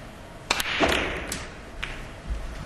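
Snooker cue striking the ball during a Pot Black 2007 final match: a few sharp clicks and thuds, fairly close, with a faint room background and no talk.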